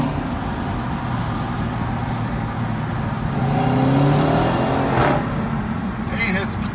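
A Dodge Charger R/T spins its tires in a race against a V6, a loud continuous engine roar with a rising pitch sweep midway and a tire-screech burst near the end, with voices audible over it.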